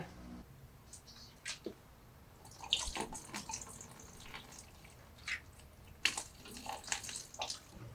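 Coolant is poured into a PC water-cooling loop during a motherboard upgrade, giving irregular close trickles, drips and small splashes in scattered bursts over quiet pauses, with a few louder gurgles.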